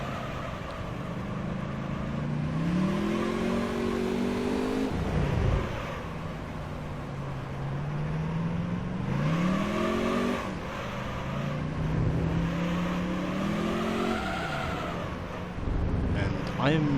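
A race car engine in Gran Turismo 3 drones and climbs in pitch through repeated upshift cycles, rising, dropping and rising again, with a voice talking over it throughout.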